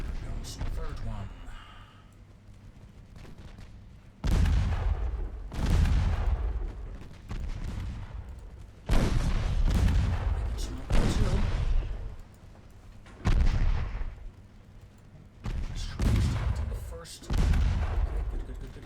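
Naval destroyer guns firing in the Ultimate Admiral Dreadnoughts game, a series of heavy booming salvos every couple of seconds, loud and close, with a voice talking between and over the shots.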